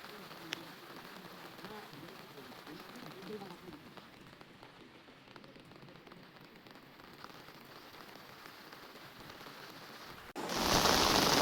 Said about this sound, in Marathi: पाऊस पण चांगलाच चालू झाला आहे आता, जोरदार एकदम.